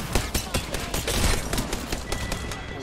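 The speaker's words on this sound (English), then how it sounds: "I'm spotted, taking fire." Rapid bursts of automatic weapon fire in an Apex Legends firefight, repeated sharp shots in quick clusters, loud and close, with brief gaps between volleys.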